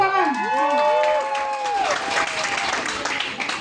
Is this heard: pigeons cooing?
no